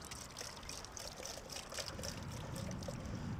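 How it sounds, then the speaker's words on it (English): Water trickles and drains through a small mesh panel in a plastic sampling pottle during stream sampling, a steady soft dribbling and splashing that continues throughout, fairly quiet with no voices. "This particular pottle, we've actually got a little bit of mesh here to let some water out."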